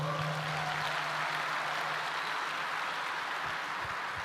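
Church congregation at a conference applauds together, a dense, sustained wash of clapping from a large crowd that holds steady throughout without a break.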